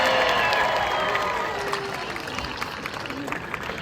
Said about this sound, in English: so let's give him a big giant round of applause for that